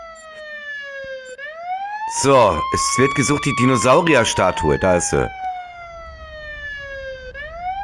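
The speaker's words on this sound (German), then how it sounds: "Mach die Sirene aus, Kollege!" A police car siren in the Police Simulator video game wails in a smooth rising and falling sweep, loud and close, continuing beneath someone speaking German.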